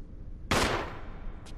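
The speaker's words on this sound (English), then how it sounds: "That was a gunshot." A single sharp gunshot in the video game Resident Evil Remastered, one loud crack with a short fading tail against a quiet background, followed by a faint brief tick.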